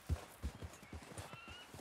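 A horse in the video game Red Dead Redemption 2 clip-clops along at a steady walking rhythm, each hoof strike close and distinct over a faint ambient background.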